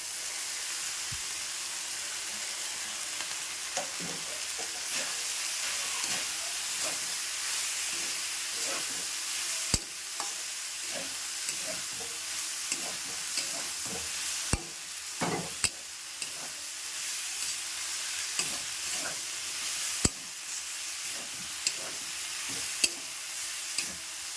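Steady loud sizzling and hissing of chickpea greens stir-frying with turmeric, with scattered spatula scrapes and taps against the pan throughout.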